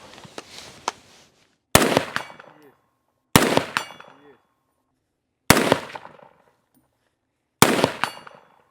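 Five loud, sharp rifle shots from a Sig Sauer MCX Spear in .308 with a 13.5-inch barrel, fired standing at a 100-metre range, spaced about two seconds apart, each with a ringing, decaying echo.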